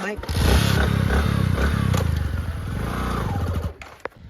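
A motorcycle engine revving close by, a loud throbbing rumble that holds steady for several seconds and then cuts off near the end.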